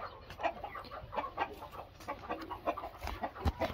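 Free-range chickens on a farm cluck in a busy, irregular stream of short calls at close range, with no talk over them.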